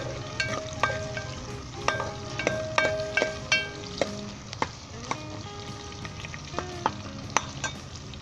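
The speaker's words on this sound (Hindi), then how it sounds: "और 1 मिनट के लिए इसे हम दोबारा भूनेंगे।" Masala and chicken being bhuna-fried in a pan sizzle steadily, with repeated sharp scrapes and taps of a spoon against the pan through the whole stretch.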